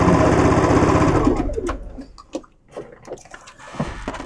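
A sewing machine stitches quilt pieces for a Hollyhock Village Green block in a fast, even mechanical whir that runs for about a second and a half and stops, leaving soft scattered clicks of handling.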